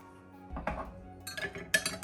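A spoon mixing instant coffee with a little water in a bowl, heard close as a few separate clinks and scrapes against the dish, sounding in short bursts across two seconds with no talking.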